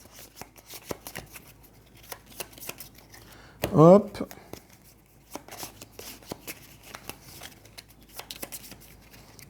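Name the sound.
shuffling a deck of cards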